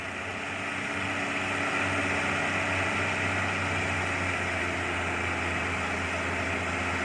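A Fuso dump truck idling at a dirt pit, with a steady, rumbling diesel drone and a constant low hum, loud and close, holding unchanged throughout.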